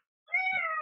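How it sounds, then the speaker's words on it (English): A cat gives a single clear meow after a moment of silence, a drawn-out tonal call heard close and alone. "Sorry, there's a cat here."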